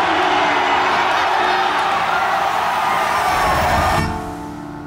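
A large crowd cheering loudly and steadily, a dense roar of voices that cuts off abruptly near the end, leaving a quieter tail.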